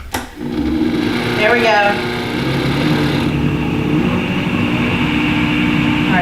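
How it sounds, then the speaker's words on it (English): A Vitamix blender runs loud and close as it blends collagen tea, its high motor roar steady for a few seconds before settling into a lower hum, with a brief voice heard near the start. "All right, that's definitely blended really well."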